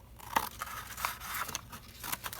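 Scissors snipping through paper while a handmade journal stencil is trimmed, several quick close crisp cuts in an irregular rhythm, fairly faint, with no talking.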